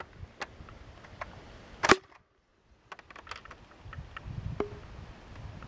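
A toy Titan rocket launches from a modified launcher with an angled adapter, giving one sharp, loud pop and a brief whoosh, followed by quieter outdoor background sounds.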